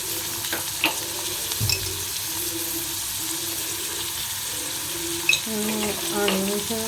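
Onions sauté with salt and turmeric in a pan, giving a soft, steady sizzle close by, with a few clinks and stirring scrapes over the hiss.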